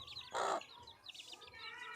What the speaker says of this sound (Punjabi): ਇਹ ਜਿਹੜੀ ਕਾਲੀ ਮੁਰਗੀ ਇਹਦੇ ਵੀ ਹੁਣ ਬੱਚੇ ਹੋਏ ਨੇ